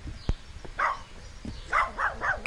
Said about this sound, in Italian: C'è il cane